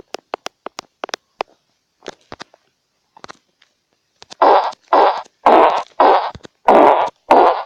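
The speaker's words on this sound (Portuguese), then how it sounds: "Peido." A phone app plays a run of cartoonish fart sound effects: first a quick scatter of short, sharp pops, then six longer, loud, broadband blasts that sound one after another at a steady rhythm, with no talk.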